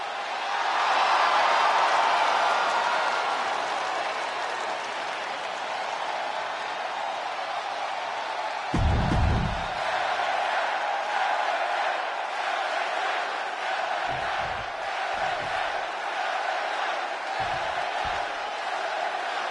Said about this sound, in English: this capacity crowd is ready to see Damian Priest in action